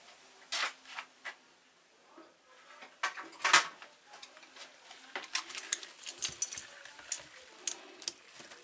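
A knife pries at the parts of a CPU cooler, giving sparse, sharp metallic clicks, scrapes and ticks that come in irregular bursts, quiet and close, with no talking.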